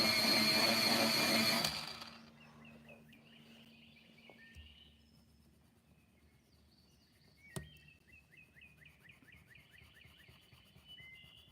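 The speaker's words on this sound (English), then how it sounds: "Let me sharpen." A colored pencil is sharpened in a short loud grinding burst at the start, followed by quiet scraping and faint rhythmic ticking.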